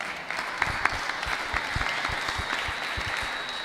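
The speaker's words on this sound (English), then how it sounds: "Oh, clap." A small meeting audience claps steadily, scattered individual hand claps standing out over a soft, even wash of applause at a modest distance, with no voices on top.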